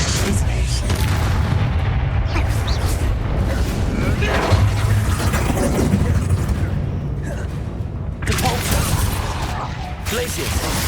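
Confringo fire spell blasts in Hogwarts Legacy, booming explosive bursts and rumbling impacts running continuously under combat noise and voices.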